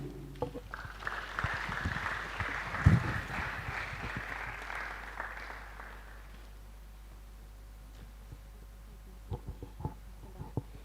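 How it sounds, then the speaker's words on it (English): Moderate applause from an audience at a university mathematics day event in Ghana, steady clapping for several seconds that fades out, followed by quiet room noise and a few faint knocks. "Oh, she deserves another round of applause."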